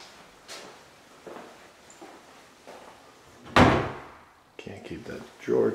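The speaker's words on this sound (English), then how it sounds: "Drawer closed" A drawer in a house kitchen opens and shuts with sharp wooden knocks and slides, including one loud thunk, among scattered handling noises and a voice.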